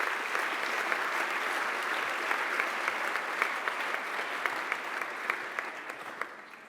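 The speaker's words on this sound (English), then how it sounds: "please do applaud for Kevork Bardakjian" Sustained applause from a gala audience at an Armenian studies association's anniversary event, steady dense clapping throughout with a few sharper claps near the end, no voices over it.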